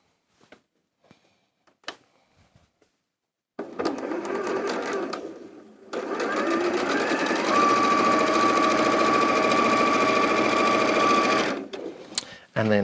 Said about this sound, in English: I'm picking this up and sewing on that seam there.